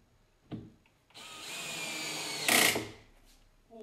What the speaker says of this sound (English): much, much quicker using the electric drill with the ratchet on